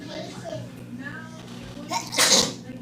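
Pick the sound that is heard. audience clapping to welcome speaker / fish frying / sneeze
sneeze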